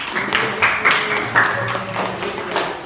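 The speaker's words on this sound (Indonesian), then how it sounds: "beri tepuk tangan untuk kelompok A." Classroom students clapping for a group after an Islamic studies presentation, a short burst of loose, uneven claps at moderate loudness, fading toward the end.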